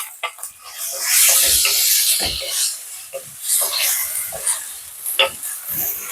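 Ginger garlic paste frying in a pan for a Malaysian Indian chicken curry, a steady sizzle with scraping stir strokes throughout, loud and close.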